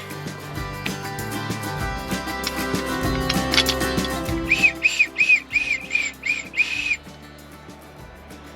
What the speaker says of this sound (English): Next time you need your whistling kettle fixed, come see me.